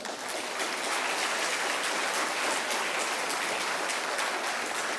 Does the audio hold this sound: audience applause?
yes